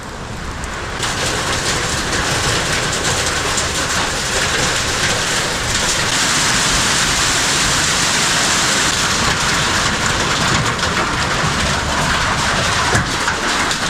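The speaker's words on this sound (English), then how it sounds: "here's the rain" Torrential storm rain, with hail in the mix, roars outside a garage, a loud, steady drumming downpour that swells slightly and holds for about fourteen seconds with no speech.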